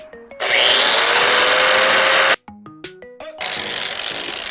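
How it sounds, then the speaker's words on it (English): An angle grinder fitted with a cutoff wheel cuts into window material, a loud sustained high-pitched whine for about two seconds, then stops with short spin-down bursts before cutting again. "Maybe we use cutoff wheel. See if I can get a little bit of a straighter line."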